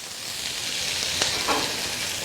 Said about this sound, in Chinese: 炝一下锅之后下入排骨